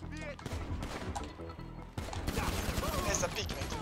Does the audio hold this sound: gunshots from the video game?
yes